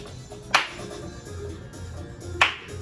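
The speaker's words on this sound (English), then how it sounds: "You can hold your chair and tap the chair" Two sharp taps of a hand striking a chair during a seated workout, spaced about two seconds apart, crisp and close over a low hum of room noise.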